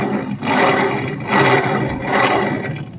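A Honda Activa 6G scooter's rear wheel spins with damaged wiring, giving a loud, harsh whirring roar that swells and fades in repeated waves, close up.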